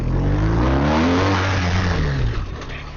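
Police car accelerating hard during a police driving competition, front end lifting under the load, a loud engine rising in pitch as it revs, close and continuous with no talk.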